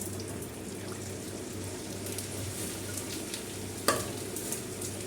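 Edible gum (gond) fries in hot oil for laddoos, a steady soft sizzle and bubbling throughout with one brief sharp clink near the end; no talking.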